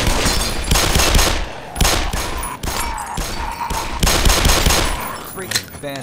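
Sustained bursts of automatic gunfire in the video game Black Mesa, loud and close, coming in dense rapid volleys with short breaks.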